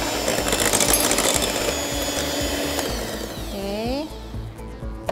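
Electric hand mixer whirring steadily as it beats cookie dough in a bowl, a continuous close buzzing hum that winds down and stops near the end, with a voice speaking over it.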